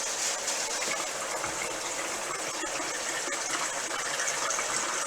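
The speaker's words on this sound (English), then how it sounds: "I'm going to rinse her thing out with my nice chlorinated water." Chlorinated tap water gushes steadily from a kitchen faucet during rinsing, a loud, continuous hiss and splash that runs alone without a break.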